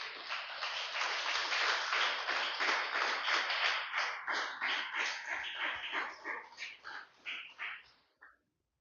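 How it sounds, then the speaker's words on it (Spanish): Church congregation claps loudly in a dense, rhythmic burst that gradually thins into scattered individual claps before dying out. "Déselo fuerte el aplauso, aleluya."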